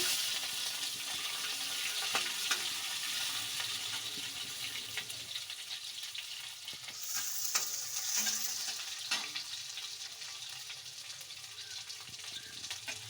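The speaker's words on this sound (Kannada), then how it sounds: "ಎಣ್ಣೆಯಲ್ಲಿ ಈರುಳ್ಳಿ ಹಾಕೊಳ್ಳಿ" Onions sizzle in hot oil for a greens stir-fry, a continuous soft crackling hiss with occasional stirring scrapes and clinks over about thirteen seconds, no voices.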